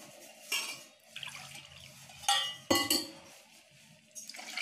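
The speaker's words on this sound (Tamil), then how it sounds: "தண்ணி ஊத்திங்க." Two cups of water poured into a pan of sugar for a sugar syrup in a home kitchen, heard as short splashing pours with a couple of clinks of a cup against the vessel, close and fairly quiet.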